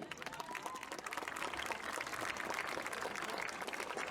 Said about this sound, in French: On peut les applaudir, ils sont beaux.